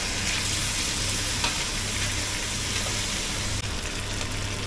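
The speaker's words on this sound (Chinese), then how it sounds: "稍微煎一下" Chicken pan-frying over a gas stove sizzles steadily and close, a dense continuous crackle with a low hum underneath, no talking.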